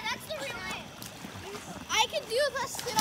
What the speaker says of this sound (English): I'm going to do a sailor dive.